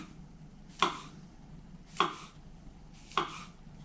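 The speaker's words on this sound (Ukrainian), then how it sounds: "Буду нарізати їх ось такими слайсиками." Three crisp knife chops slicing mushrooms on a cutting board, evenly spaced about a second apart, close and clear against quiet room tone.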